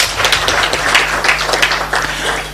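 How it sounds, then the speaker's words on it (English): Audience at a Pan-African green climate financing conference applauds a speaker, a steady wash of many hands clapping that runs loud and dense from start to finish with no talk over it. "A clap for him."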